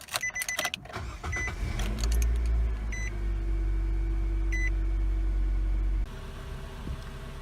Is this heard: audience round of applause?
no